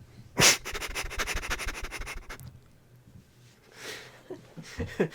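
A person imitates a dog meeting a human for the first time. A loud, close scratchy sniff is followed by a rapid run of rhythmic panting breaths, then softer sniffs and huffs that trail off.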